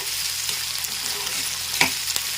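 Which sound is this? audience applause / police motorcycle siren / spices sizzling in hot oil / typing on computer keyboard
spices sizzling in hot oil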